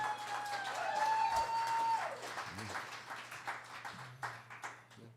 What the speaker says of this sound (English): Give this man some applause for that.